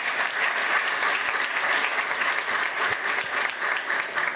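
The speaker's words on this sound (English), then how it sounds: "A big round of applause for Speaker Nancy Pelosi" Loud, dense round of applause from a ceremony audience at the Library of Congress honoring Speaker Nancy Pelosi, continuous and even throughout with no talk over it.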